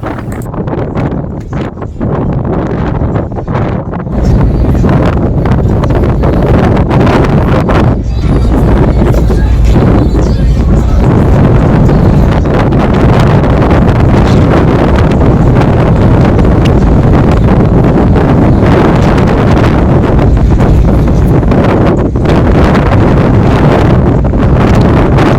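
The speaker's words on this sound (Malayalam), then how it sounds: "നല്ല കാറ്റുണ്ട് ഇവിടെ." Strong wind in Tallinn, Estonia roars across the microphone for the whole stretch, a loud, continuous buffeting rush with gusty swells and no clear voices.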